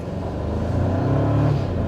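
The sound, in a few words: 2024 Toyota Tacoma SR5 accelerating with wheel spin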